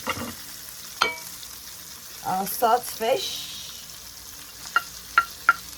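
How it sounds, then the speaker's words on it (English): Saltfish goes into a pan of sautéed sauce for Jamaican rice and peas, giving a quiet sizzle under a few scrapes and knocks, with sharper clinks toward the end and a brief murmur of voice. "This is beautifully sauteed. I'm just gonna add in our saltfish."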